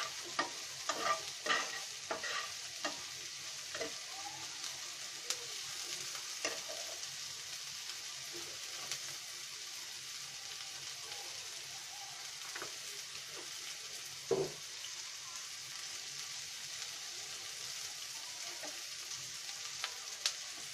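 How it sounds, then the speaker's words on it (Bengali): Onions frying in a pan with a pinch of salt, cooked for a spiced fish roe dish, give a steady soft sizzle with occasional stirring scrapes and clicks, fairly quiet and continuous, no talk. "আমরা এখানে এক চিমটি লবণ দিয়ে দিব আমাদের পেঁয়াজটা ভাজা হওয়ার জন্য।"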